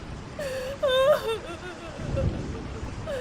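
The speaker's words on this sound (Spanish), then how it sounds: "de repente escuché un llanto de una mujer" A woman cries in a sound effect, letting out wavering, rising sobbing wails and whimpers, close and alone, followed by breathy gasps.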